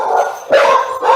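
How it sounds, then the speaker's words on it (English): A dog barks loudly and close during an online business chat, giving a couple of sharp barks inside a second with a strained, whiny edge, and no talk over it. "Sorry, that's my dog."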